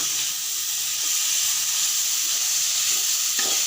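Chopped tomatoes frying and being stirred in a pan make a loud, steady hissing sizzle, with a soft scrape of stirring toward the end.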